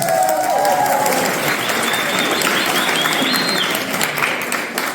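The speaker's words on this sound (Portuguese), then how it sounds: "Palmas para o Antônio, por favor." Loud audience applause at the opening session of a political camp, dense clapping from a crowd with some cheering and voices mixed in, sustained throughout.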